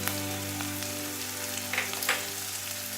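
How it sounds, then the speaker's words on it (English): Onion frying in a pan with a little salt, a steady close sizzle and crackle running throughout, with a few brief louder spits near the end and no talk. "So now I'm going to fry this onion"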